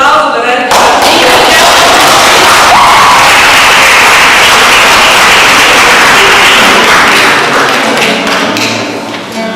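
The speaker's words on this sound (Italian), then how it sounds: "E vi chiedo un applauso per Erika." Sustained applause from an audience at a book presentation, dense clapping mixed with some cheering, loud and continuous for about nine seconds before tapering slightly at the end.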